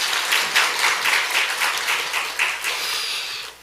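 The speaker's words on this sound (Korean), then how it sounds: "한번 박수 한번 하십시다" A Sunday-service church congregation applauds the choir at its first ensemble since COVID, early in the new year, with brisk, close clapping from many hands, fairly loud and steady throughout.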